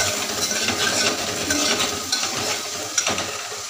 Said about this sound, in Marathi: थोडीशी हळद, लाल तिखट थोडंसं परत टाकलं मी आणि परतवून घेते छान असं